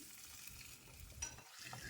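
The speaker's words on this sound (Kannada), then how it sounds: "ಒಗ್ಗರಣೆನ ಈ ಗೊಜ್ಜಿಗೆ ಹಾಕಿ ಚೆನ್ನಾಗಿ ಮಿಕ್ಸ್ ಮಾಡ್ಕೊಳ್ಳೋಣ." Hot tempering is stirred into a fenugreek seed gojju, giving a faint, low sizzle with soft scraping and stirring sounds close by.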